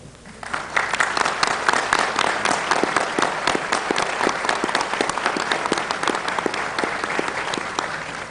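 Audience at a government forum on free versus proprietary software applauds: clapping swells in quickly and holds as a loud, crisp roll of many individual claps, with no one speaking over it.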